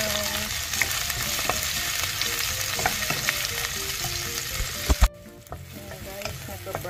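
Onions frying and being stirred in a pan before octopus goes in, a steady broadband sizzle with scattered utensil scrapes and clicks, loud and close, briefly dropping away near the end.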